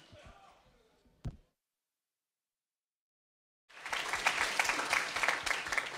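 An audience at a live contest show bursts into loud applause and cheering after a brief silence, dense clapping continuing steadily to the end.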